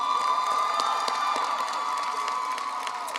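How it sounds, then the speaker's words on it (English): A large high school graduation crowd gives sustained applause mixed with cheers and whoops, a dense, steady roar of clapping heard from within the audience that tapers slightly toward the end. "Crawford a huge round of applause."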